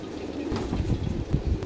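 Pigeons cooing at a rooftop loft, low throaty coos repeating close by over a rumbling background.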